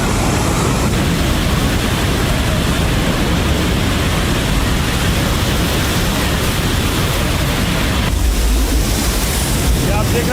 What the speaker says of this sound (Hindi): पानी का बहाव देखिए जरा, इतनी तेज पानी आया है